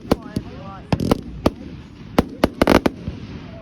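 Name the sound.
fireworks exploding on Bonfire Night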